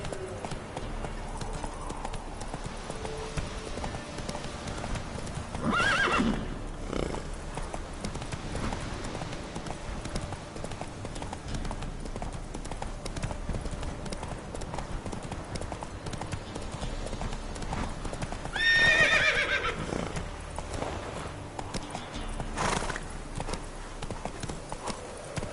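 Roach, the horse in the Witcher 3: Wild Hunt video game, gallops with steady rhythmic hoofbeats throughout, joined by a couple of brief louder bursts that include a short voice.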